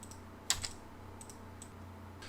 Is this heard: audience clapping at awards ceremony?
no